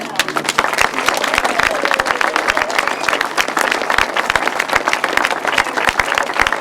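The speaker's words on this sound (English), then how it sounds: "let's keep the applause going then" A grasstrack race crowd claps for trophy winners, loud sustained applause with crisp individual claps close by, continuous for several seconds.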